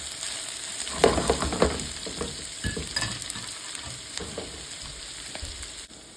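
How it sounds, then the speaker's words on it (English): Sausages fry in a pan for Polish bigos with a steady sizzle, broken by a few scraping stirs near the start. "I'm just going to fry up the sausage until it's nicely browned all over"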